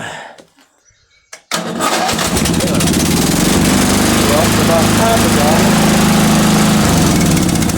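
A riding lawn mower tractor engine cranks briefly after near silence, then catches and starts, settling into a loud, steady running roar that continues to the end.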